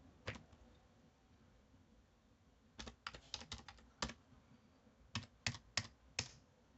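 Quiet keystrokes on a computer keyboard while a password is entered, arriving as a lone tap, then a quick cluster of presses and a final short burst, with no talking.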